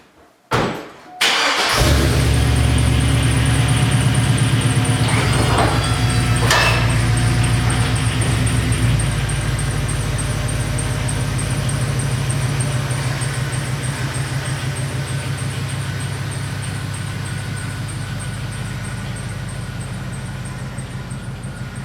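A Chevrolet Z71 pickup truck with new bump stops starts with a sharp clatter and then drives steadily, its engine droning loud and close under a constant road rumble with no talking.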